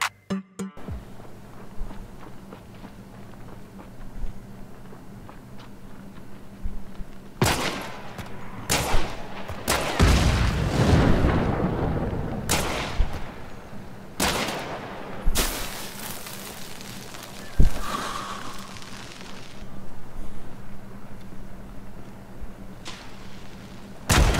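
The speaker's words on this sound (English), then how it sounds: "have you ever seen someone shoot the dynamite on the enemy's hand?" Gunfire in Hunt: Showdown, with sharp, loud shots cracking at irregular intervals. One shot hits the dynamite held in an enemy's hand, followed by a heavier blast and rumble near the middle, then a few more scattered shots.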